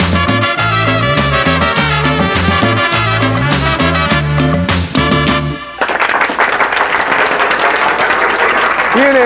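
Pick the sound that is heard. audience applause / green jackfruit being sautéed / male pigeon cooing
audience applause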